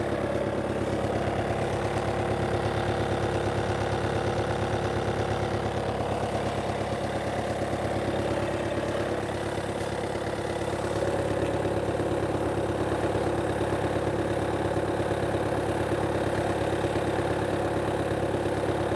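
A 2020 Volkswagen Passat Variant 2.0 TDI diesel engine idles steadily with a low, constant rumble and exhaust drone, unchanging and close for the whole stretch.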